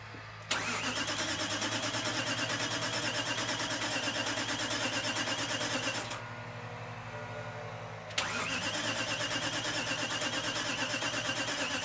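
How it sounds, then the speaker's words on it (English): A BMW E93 M3 engine, after a rod bearing replacement, is primed and cranked with its injectors unplugged, the starter whirring steadily for several seconds, pausing briefly, then cranking again without firing, heard close and quiet. "Now I'm about to prime the engine, and then I'm going to start it up."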